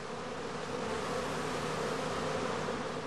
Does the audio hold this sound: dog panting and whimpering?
no